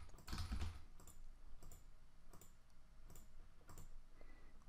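Quiet, spaced keystrokes tap on a keyboard while an HTML web form is filled in. The soft clicks fall about every half second over a faint background hiss, with no voices.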